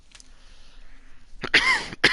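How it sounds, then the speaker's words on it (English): A single person's cough, then a second shorter one, sharp and close up after a stretch of near silence. "A little cough there."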